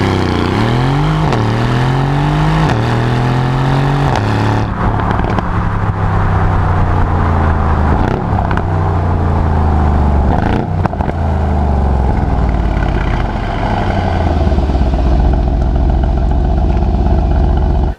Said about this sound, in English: it still sounds like a big capacity V8